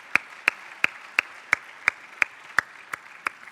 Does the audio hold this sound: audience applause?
yes